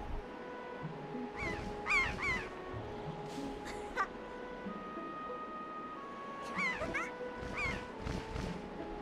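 A bird calling in the video game The Legend of Zelda: The Wind Waker: bright, pitched chirping calls in several bursts over a steady tonal background music, fairly close and loud.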